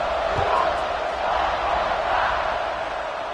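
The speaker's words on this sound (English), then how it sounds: "this crowd is buzzing after that last score" Crowd noise in an American football video game swells as a steady, dense roar of fans buzzing after a fourth-quarter score, continuous and loud throughout with no distinct voices standing out.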